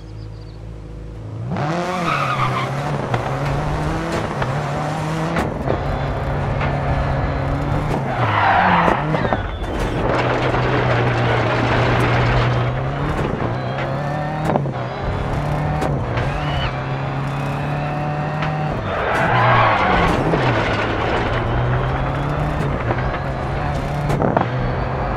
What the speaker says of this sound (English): Press the gas to get the car moving.